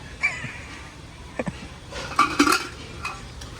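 Pressure cooker and metal pots handled at a secondhand market, a few scattered clinks and knocks, louder in a cluster midway, with little talk.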